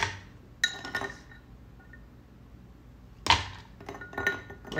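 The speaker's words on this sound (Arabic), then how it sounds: "بعد كده بنضيف الثلج." Ice cubes, about five, dropped into a glass while making an iced white mocha, giving two bright clinking bursts with a short rattle after each, close and clear with no talking.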